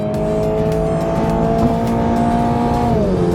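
A Toyota GR86 engine drones loudly and steadily from inside the cabin under acceleration, then its pitch drops briefly near the end as it shifts gear.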